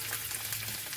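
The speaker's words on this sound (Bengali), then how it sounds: "দিয়ে ভালো করে সবজিগুলি ভেজে নেব" Vegetables and spices fry steadily in a hot pan at home, a dense, close sizzle that holds even and continuous with no voices over it.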